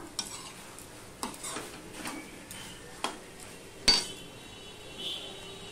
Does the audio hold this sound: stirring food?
yes